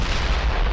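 Loud gunfire from a weapon in the shooter game Black Mesa, a dense booming blast filling the whole short moment with no voices.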